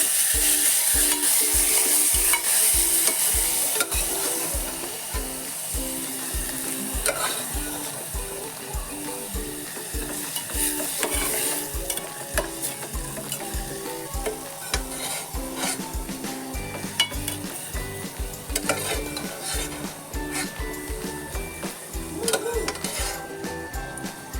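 Goan moong gathi mixture with green chillies is stirred and fried in a pan, a steady sizzle and scraping under busy, continuous kitchen clatter, close and fairly loud throughout with no talk.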